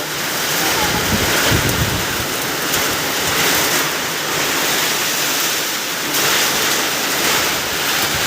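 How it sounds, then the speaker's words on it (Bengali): Loud, dense rush of heavy rain or wind-driven downpour, steady with slight swells, roaring close by. "কি বৃষ্টি বৃষ্টি নামছে"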